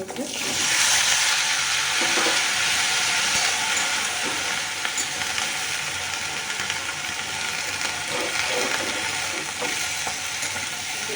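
Chopped, washed vegetables tipped into hot oil with cumin seeds fry with a loud, continuous sizzle and crackle, with occasional stirring scrapes underneath.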